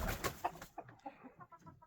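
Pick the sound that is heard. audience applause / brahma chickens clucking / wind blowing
brahma chickens clucking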